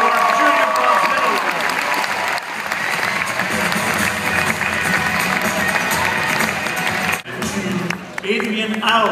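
Audience at a Canadian science fair awards ceremony applauding and cheering for bronze medal winners, loud dense clapping with shouts, a brief dip near the end before resuming, voices mixed in.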